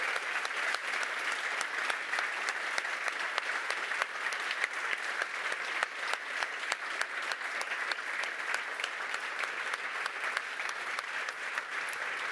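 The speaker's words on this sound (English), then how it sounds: "let's give them a last roaring applause" A conference audience applauds award winners at the close of the event, sustained dense clapping that stays even and full for the whole stretch, with no talk.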